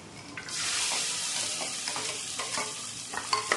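Onion sautéing in a pan while preparing a Malvani-style fish curry, a steady loud sizzle with scraping stir strokes throughout, close and alone with no voices.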